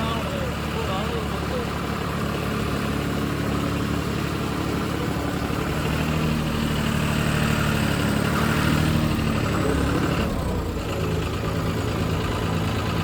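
A heavy tractor engine chugs and drones steadily while puddling a wet field, with a low rumbling throb and a slight shift near the end; no clear talking.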